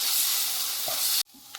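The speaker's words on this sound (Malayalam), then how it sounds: "അത് ചേർത്ത് ഇതിനകത്ത് ഇളക്കുക." Tomato paste is stirred into a frying egg roast masala: a steady loud sizzle fills the pan, then cuts off abruptly, leaving a quieter faint hiss with light scraping.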